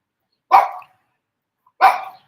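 A dog barks at birds outdoors, two sharp single barks about a second apart, close and loud with silence between them.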